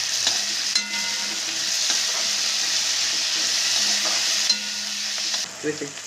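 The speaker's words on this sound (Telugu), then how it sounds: "తరిగిన ఉల్లిపాయలు వేసి బంగారు రంగు వచ్చే వరకు వేయించాలి. తర్వాత పచ్చిమిర్చి, క్యాప్సికం వేసి బాగా వేయించి" Chopped onions, green chili, capsicum and tomatoes fry in a pan with a steady, close sizzle and occasional stirring scrapes, continuing without pause and alone.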